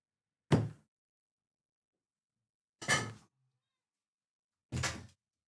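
A house cat meows to be let out, three short separate cries spaced a couple of seconds apart with silence between, fairly close and alone.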